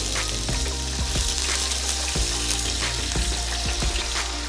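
Pork belly in a hot oil bath on a Char-Griller smoker crackles loudly and continuously, with sharp pops bursting at irregular intervals through a dense sizzle.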